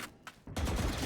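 Gunfire in the tactical shooter Valorant, a couple of quick shots followed by a dense, sustained burst of loud fire, with no voices.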